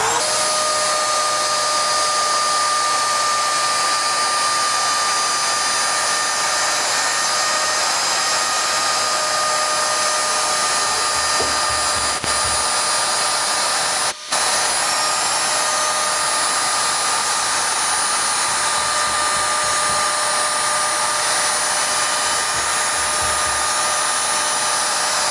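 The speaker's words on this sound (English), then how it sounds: "with the router, they'll come in and cut out the lines very, very, very, very precise" A router cuts precise lines into wood in a furniture workshop. Its steady, loud, high whine runs without a break and barely changes pitch throughout, with one brief dropout partway through.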